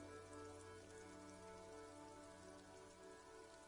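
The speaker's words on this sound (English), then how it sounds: "This rain will not let up anytime soon." Steady rain falls on surfaces in the game Disco Elysium, a constant dense patter with no voices, quiet and even throughout.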